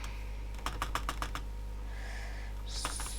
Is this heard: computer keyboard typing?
yes